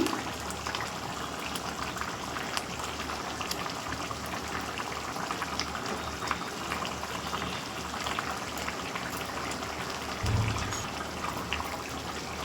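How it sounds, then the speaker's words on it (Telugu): A pot of bochha fish curry simmers on a stove with a steady, close bubbling and soft popping that continues without a break. One slightly louder burst comes near the end, and no one speaks. "ఇప్పుడు ఫిష్ ముక్కలు కూడాను బాగా ఉడికిపోయాయి"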